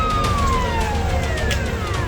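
A fire brigade vehicle's siren wails loudly with sweeping tones over steady road traffic noise, as more than a dozen fire engines arrive at a blazing plastic scrap factory.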